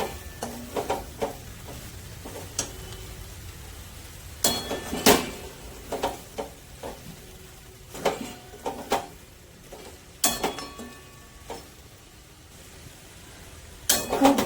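A spoon or spatula stirs fish filling with chopped coriander in a pan over low heat, sparse clinks and scrapes against the metal over a soft sizzle, with short clusters of sharp knocks.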